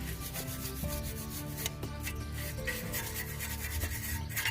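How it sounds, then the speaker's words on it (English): A stiff, fine wire brush scrubs rapidly back and forth against a rusty metal brake caliper on a 2010 BMW E93, a steady rasping scratch up close with no voices. "gone over it with the fine little wire brush"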